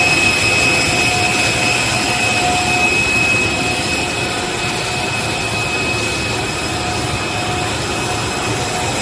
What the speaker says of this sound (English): post from Dan Scavino giving you a really interesting look of Air Force One.